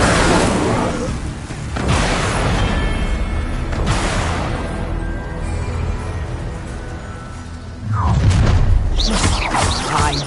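An Incendio fire spell erupts in Hogwarts Legacy, a few loud whooshing booms and bursts of flame amid combat noise, with a voice briefly heard.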